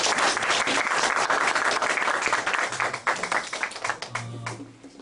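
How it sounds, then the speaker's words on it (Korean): A lecture audience at a peace and unification academy breaks into dense, loud applause right after the first lecture, then the clapping thins out near the end as a low hum rises beneath it. "다시 한번 뜨거운 박수 부탁드리겠습니다"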